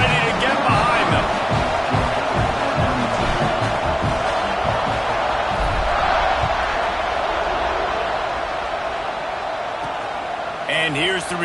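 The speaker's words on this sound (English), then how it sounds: "They're set to kick it off, and this crowd now ready to get behind them" A football stadium crowd roars before kickoff, a loud, sustained wash of cheering and noise with a commentator talking over it.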